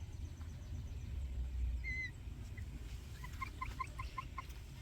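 Backyard hens, including a buff Orpington, clucking softly in a garden food forest, with a short run of rhythmic clucks over a low outdoor rumble.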